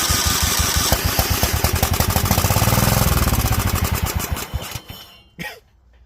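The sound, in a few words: Kohler engine of a John Deere L110 tractor starting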